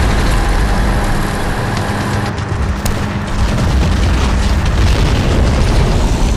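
Artillery barrage in Men of War: Barbarossa on the Russian front, a dense, loud roll of overlapping booming explosions with no gaps, rumbling continuously with sharper cracks mixed in.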